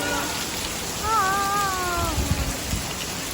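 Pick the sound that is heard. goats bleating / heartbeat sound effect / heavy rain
heavy rain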